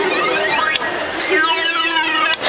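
A groan tube toy gives off a long, wavering tonal drone that sweeps and warbles, heard close and fairly loud against faint background chatter.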